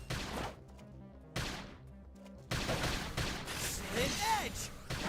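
Bursts of gunfire and shooting in the Xenoblade Chronicles X video game, loud rapid volleys broken by short gaps, with a sweeping synthetic tone near the end.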